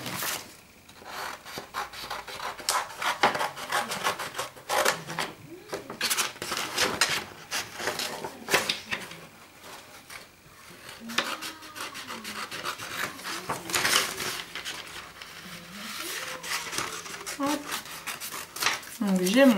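Wooden triangle and hexagon shapes being cut out for a wooden photo display, giving a steady run of close, raspy cutting and rubbing strokes with brief pauses between bursts.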